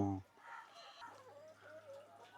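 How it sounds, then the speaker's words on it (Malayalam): Caged hens on a home farm give a brief loud squawk, then keep up faint, scattered clucking while a person talks nearby. "അച്ഛൻ്റെ കോഴികളാണിത്"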